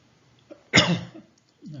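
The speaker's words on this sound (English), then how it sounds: "Please excuse my cough." A single harsh cough, close and abrupt, framed by soft bits of speech just before and after.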